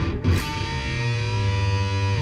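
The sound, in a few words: rattly transient tones while bending a guitar note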